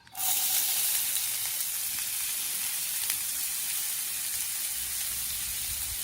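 Chopped onion hits a hot pan with oil and a bay leaf, bursting into a loud, steady sizzle that holds evenly for several seconds with no talking.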